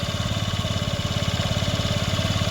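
A Yamaha Jog AY01 moped engine idles steadily with a fast, even putter, running close by and fairly loud with no other sounds.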